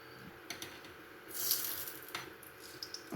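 A brief hiss of oil and ghee sizzling as a sambar tempering hits the hot pan, a soft spitting burst rising near the middle over faint kitchen clatter.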